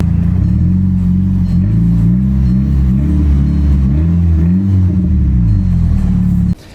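A Volkswagen Golf 6 GTI engine rumbles loudly and aggressively up close, its low growl rising and falling with throttle blips before abruptly cutting off at the end; the car's resonator is missing.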